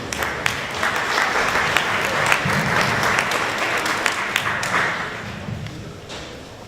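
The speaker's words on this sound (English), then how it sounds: "Let's give him a round of applause" An audience at a Department of Defense public meeting applauds an Air Force assistant secretary, a broad, steady spread of clapping with a few louder, closer claps and thumps scattered through it.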